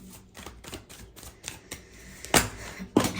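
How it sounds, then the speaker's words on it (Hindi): Tarot cards being shuffled by hand: a close, crisp sequence of rapid clicking riffles and snaps, getting louder with two sharp slaps near the end. "मैं दोबारा शफल करती हूँ।"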